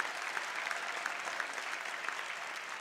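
A church congregation at a Sunday service claps together, a dense, steady round of applause held evenly for the whole stretch with no voices above it.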